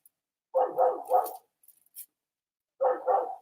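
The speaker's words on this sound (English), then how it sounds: "That's my neighbor's dog." A neighbor's dog barks nearby in two bursts, a quick run of three barks and then a pair after a short pause, loud and clear against silence.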